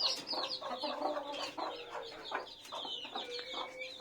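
Free-range desi chickens cluck repeatedly in a cage on a house rooftop, with several birds calling close by in busy, overlapping bursts and no talk over them.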